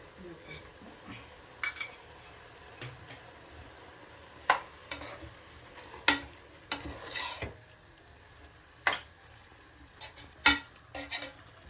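Chicken being cooked Kerala style in coconut oil in a pan, with soft stirring and clinks of a utensil against the pot in scattered bursts over a faint sizzle, no talking.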